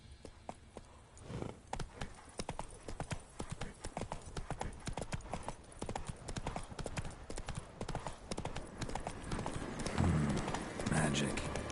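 Horse hooves clip-clop at a steady galloping rhythm in the video game Witcher 3, loud and continuous throughout, with game sounds and a voice briefly present over the hoofbeats.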